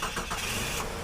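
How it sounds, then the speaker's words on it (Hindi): A jeep engine turning over and catching, a steady close mechanical churn that runs without a break. "ड्राइवर ने जीप एडवर्ड पैलेस की ओर दौड़ा दी।"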